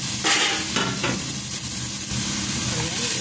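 Carrots fry in a hot pan while being stirred, giving a steady sizzle broken by short scraping stirs, close and fairly loud.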